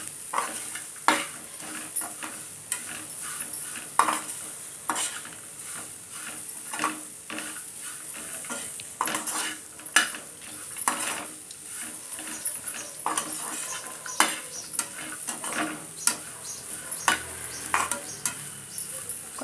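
Grated coconut is stirred into ivy gourd frying in a pan, with a soft sizzle under repeated scraping and knocking of a spoon against the pan at an uneven rhythm.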